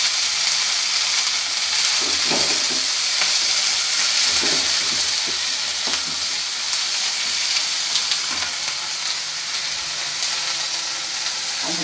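Cleaned greens sauté in a pan for ragi kali, a loud steady hiss of frying with irregular stirring scrapes and clinks throughout, no one speaking.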